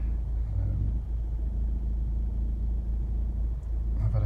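A 2013 Honda CR-V 2.2 i-DTEC diesel engine idles steadily at close range with a low, even rumble, and no voices are heard.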